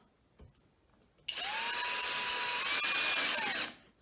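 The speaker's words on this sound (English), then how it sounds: "Just listen to the pitch of the motor, see if you can hear how it slows down." A brushless cordless drill motor whines loudly under load for about two seconds, its pitch dipping slightly as it works before winding down, close and alone after a quiet start.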